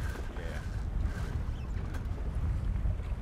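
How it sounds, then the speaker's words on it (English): Wind blowing steadily across a small water channel, with a continuous low rumble and buffeting on the microphone and no clear speech. "the wind is pretty good out here in this little channel"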